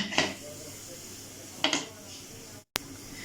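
Two sharp metallic clinks of a weight set onto a cooker lid, close and distinct, followed by a brief clunk near the end.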